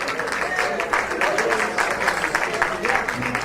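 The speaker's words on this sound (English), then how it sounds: "How about a nice round of applause for Rupa's brother Vivek and that wonderful speech." A wedding reception audience gives sustained applause after a brother's toast, many hands clapping in a dense, even roar that fills the room, slightly distant and without a break, with faint chatter mixed beneath.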